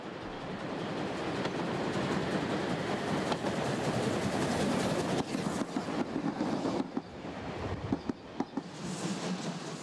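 A train on the Berlin Stadtbahn, where class 015 steam locomotives once hauled trains, rolls past with a steady broadband rumble and wheel clatter that grows intermittently louder toward the end, with no voices.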